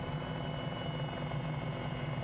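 A simulated Cowan Sim 500E helicopter in flight, its steady rotor thump and turbine drone holding a constant, fairly loud level without a break.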